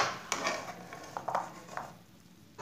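Vegetable noodles get stirred in a pan, giving light scraping and clinking of a utensil against metal in a few irregular strokes, with a faint sizzle underneath and no talk.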